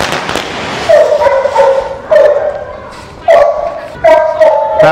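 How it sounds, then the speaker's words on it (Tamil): Pepper vedi firecrackers bursting for Diwali, four loud sharp cracks spaced about a second apart, each trailing into ringing noise, with a dog barking and yelping between blasts and voices faintly present. "பெப்பர் வெடி"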